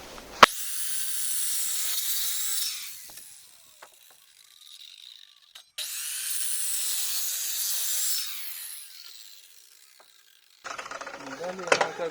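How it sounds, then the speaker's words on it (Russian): Wooden beam being sawn lengthwise for a shed foundation frame, two long stretches of steady rasping strokes separated by a quiet pause, then a short burst of cutting at the end. "Теперь пилим вдоль."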